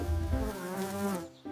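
A bee buzzes steadily and close by, a harmonic insect drone that wavers in pitch and dips briefly before swelling again near the end.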